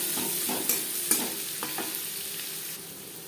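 Chopped onions fry in refined oil in a wok, a continuous hiss and sizzle with a few scraping stirs of a spatula, close and fairly steady with no talk.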